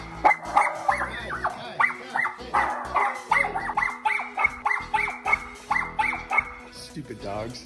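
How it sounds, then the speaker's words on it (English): Several dogs bark and yip in quick, rhythmic volleys close by, with whimpering mixed in, loud and continuous over the whole stretch, with people's voices partly underneath. "Stupid dogs."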